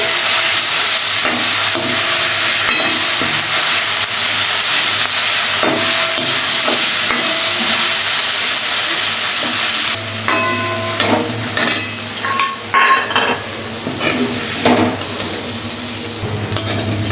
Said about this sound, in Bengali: যাতে কড়াইতে না লাগে আজকে আমাদের দেখো ডেকি শাক ভাজা